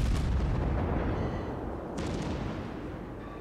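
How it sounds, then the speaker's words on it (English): Deep booming rumble of naval gunfire and a torpedo salvo launch in World of Warships, a loud low roar with a sharper burst near the middle, continuous battle noise. "Firing a salvo of torpedoes in case that Omaha cruiser just happens to show up unexpectedly"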